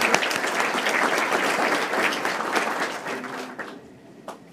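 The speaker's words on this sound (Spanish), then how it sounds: "Un aplauso para nuestro colega." Sustained applause from an audience at a judicial association event, dense and steady clapping that fades toward the end with a few last claps.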